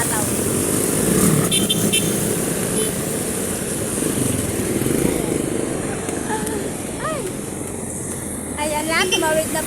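Vehicles rush past one after another on a busy highway, a steady loud roar of engines and tyre noise close by, with a motorcycle-like whine rising and falling as each passes and voices talking over it.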